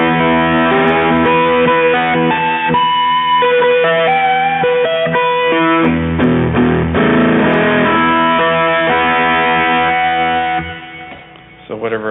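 A guitarist plays a melodic line on an electric guitar through a distortion effect, the notes held and sliding into one another, loud and close, before the sound thins out near the end.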